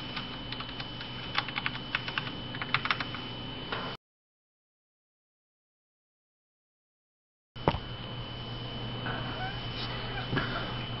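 Light, quick touch typing on a MaxKeyboard Nighthawk X8 mechanical keyboard, clicks pattering steadily; the sound cuts out for a few seconds, then the typing resumes.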